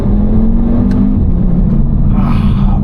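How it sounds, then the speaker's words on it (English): A 2014 Audi RS Q3 with a 310 HP engine pulls hard, its loud, steady engine drone rising slightly in pitch under constant road rumble, heard from inside the cabin with no talking. "Could never get tired of this engine"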